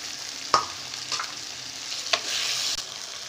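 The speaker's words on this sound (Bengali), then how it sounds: "তো আমি লঙ্কা আর টমেটো কুচি দেওয়ার পর এটাও খুব ভালোভাবে কষানো হয়ে গিয়েছে" Green chillies and chopped tomato sauté with onion in oil for a fish curry, making a moderate, close sizzle punctuated by a few sharp spatula scrapes and stirs, with no talking.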